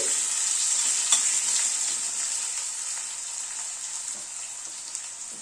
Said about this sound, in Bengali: আলুটাকে দিয়ে একটু নাড়াচাড়া করে নিচ্ছি।